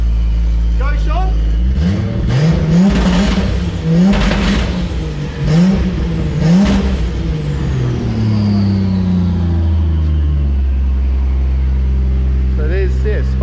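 A turbo Barra-engined Nissan Patrol revs hard several times in a row with a spark-up rev limiter, loud and close, the rises and drops repeating before it settles to idle while a voice talks over it.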